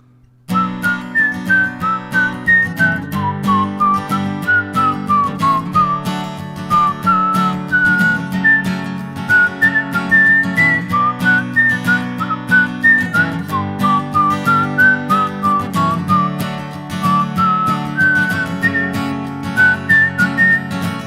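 A person whistles a melodic tune continuously over steady background instrumental music, the whistled notes rising and falling in clear phrases throughout.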